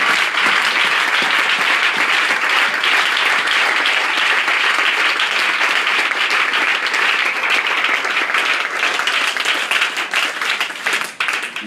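A church congregation applauding to acclaim the Lord, loud sustained clapping from many hands that holds steady for several seconds and then tapers off near the end.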